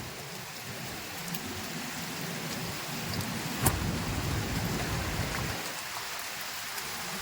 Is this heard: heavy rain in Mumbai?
yes